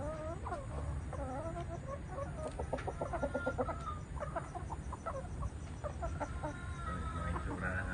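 Hens, including blue-legged and green-legged laying hens, cluck and murmur in a winter December farmyard, a busy layer of overlapping calls over steady low background noise, fairly faint and without foreground talk.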